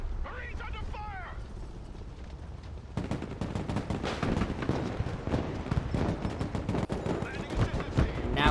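Heavy gunfire in the Broken Arrow war game during an assault on a heavily defended artillery position: dense bursts of automatic fire and explosions crack continuously after a short lull, with people talking over the battle.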